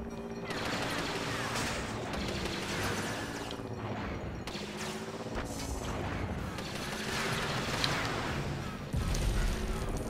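A burst of bombs goes off in the Lego Star Wars video game after the Hellfire Droid is hit, with a dense rumble of crackling blasts and booms under game music, and one heavier thump near the end.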